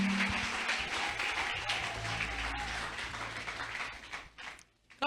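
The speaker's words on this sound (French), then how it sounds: "Est-ce qu'on peut acclamer d'abord? Acclame d'abord pour God Grace TV." A church audience applauds and cheers after a testimony, a broad wash of clapping that fades toward the end.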